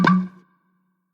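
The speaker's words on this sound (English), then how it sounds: "how to take the sound of your finger in a Coke bottle and make that the sound of the Roadrunner tongue flip" A finger popped out of a Coke bottle gives a single short hollow plop with a brief ringing tone that decays within half a second, then silence; used as a cartoon Roadrunner tongue-flip effect.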